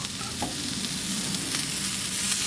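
A meatball for a smash burger sizzles on a hot plancha griddle, a steady crackling hiss of frying that fills the short moment without talk.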